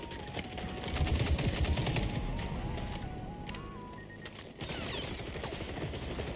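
Rapid gunfire in the shooter game XDefiant rattles in quick bursts at a moderate distance beneath steady game noise, with no voices.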